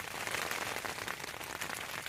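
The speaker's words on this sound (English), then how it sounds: "as you can tell, it's just started raining" Rain that has just started patters steadily on a tent at a backcountry campsite, a dense, even hiss of drops with no talking.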